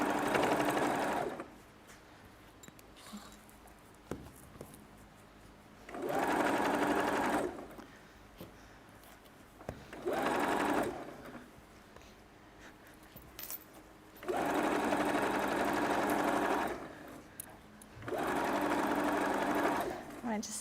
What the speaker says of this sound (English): I'm just top stitching around the outside here.